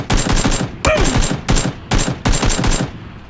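Rapid bursts of gunfire in PUBG Battlegrounds, five loud close volleys of automatic shots separated by short gaps, with a faint voice in one gap.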